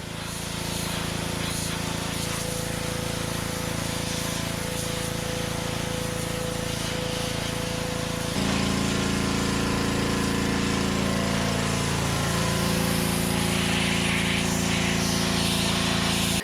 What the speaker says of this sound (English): An hour of pressure washing and scrubbing later, the motor's clean.